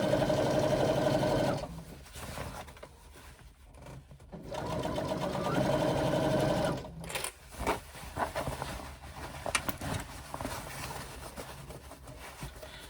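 A sewing machine stitches the channel of a swim bag, running in steady bursts of rapid whirring that stop and start with short pauses, close up and with no voices.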